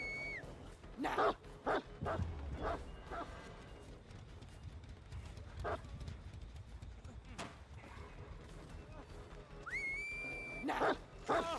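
Dog barks in the video game Dead by Daylight, a handful of short bursts spaced irregularly over a busy game soundscape with occasional whistle-like tones.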